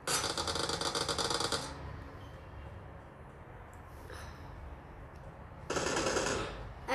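Automatic gunfire in PUBG rips out in a loud, rapid burst, fades to a quiet lull, then returns as a second shorter volley near the end.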